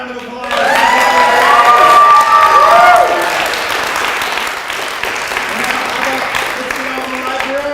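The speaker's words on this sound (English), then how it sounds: "Give him a round of applause." A story slam audience bursts into loud applause and cheering, with whoops and shouts rising at the start, then settling into sustained clapping.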